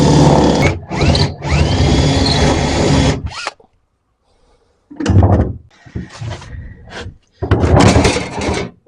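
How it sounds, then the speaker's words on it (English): A drill is used to drill out rivets on a Series Land Rover trailer under rebuild. Loud, close bursts of rough grinding and whirring are heard, broken by short silent pauses, then a final long burst. "we've got to drill out the rivet so we can get actually down through the hole and everything"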